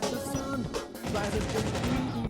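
Explosions and heavy gunfire burst through a chaotic video game match, a C4 charge going off amid loud crashing blasts that fill the whole stretch with dense, rumbling noise.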